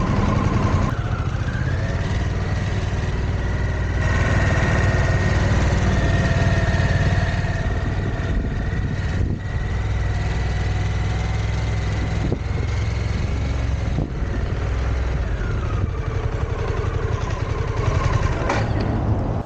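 A Harley-Davidson motorcycle engine idles steadily up close, a continuous low rumble with slight rises in pitch as the throttle is blipped, heard alone without talk.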